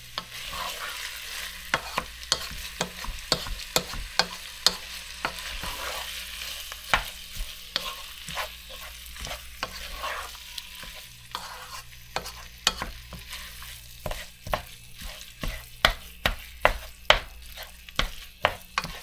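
Ground beef browning in a pan for chili, a soft sizzle under frequent scraping and clacking of a utensil breaking up and stirring the meat, the taps growing busier and louder toward the end; no one talks.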